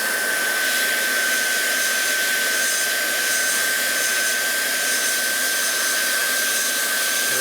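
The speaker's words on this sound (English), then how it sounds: "I could put a hot air gun, a hot heat gun on there." A heat gun blows hot air onto a part of a 1941 Harley WL 45 flathead stroker motor being built, making a loud, steady, close whoosh with a thin high whine that holds unchanged throughout, with no talk.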